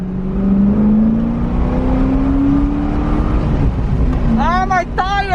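A Corvette with its roof off accelerates on a freezing 29-degree winter day, its cold tires losing traction, giving a steady loud engine drone that rises in pitch, while a person's voice breaks in briefly near the end.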